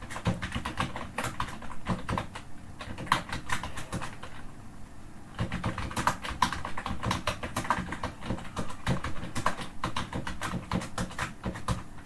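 Rapid typing of C++ code on a computer keyboard, dense close clattering keystrokes in uneven bursts with a short pause midway, no talking.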